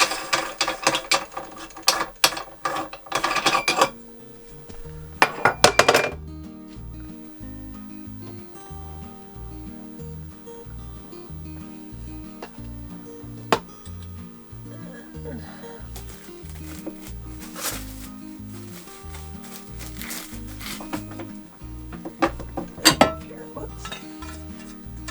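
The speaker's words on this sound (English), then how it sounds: "Now I've unplugged my machine and I want to go ahead and take it apart." A venison meat grinder being taken apart by hand, with irregular metallic clanks, rattles and ratchet-like clicks from handled metal parts. The sounds come in scattered bursts with quieter stretches between, close by.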